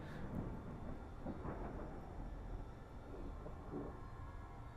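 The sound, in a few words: thunder and lightning storm in video game Stasis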